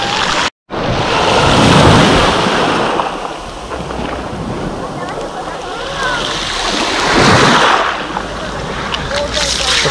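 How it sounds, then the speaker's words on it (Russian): Sea waves washing onto the beach at Lazarevskoye on a fresh morning, a loud rolling surf that swells and recedes twice, with wind buffeting the microphone and a brief dropout near the start. "У нас вот этих волн дофига."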